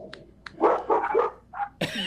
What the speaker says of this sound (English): You got the dog all riled up.